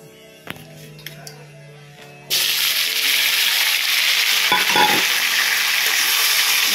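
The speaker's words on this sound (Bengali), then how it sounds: "এটা যে অনলাইন থেকে আনা হয়েছিল মুগ ডালের পাঁপড়, সেটা ফ্রাই করব" Moong dal papad dropped into hot oil, a few faint clicks, then a sudden loud, steady sizzling hiss that continues to the end with occasional crackles.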